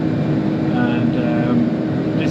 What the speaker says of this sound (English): and this is a new tractor, this one